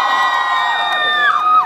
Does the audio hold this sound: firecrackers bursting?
no